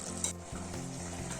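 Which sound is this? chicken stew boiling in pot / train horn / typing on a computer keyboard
chicken stew boiling in pot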